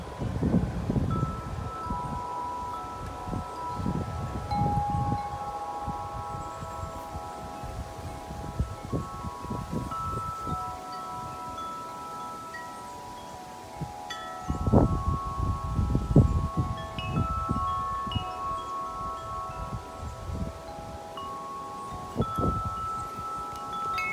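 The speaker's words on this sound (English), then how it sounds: "Good wind gust." Wind gusts on a windy evening, surging in bursts of rustling and microphone buffeting around a faint steady tone, with a quieter lull in the middle and no talk.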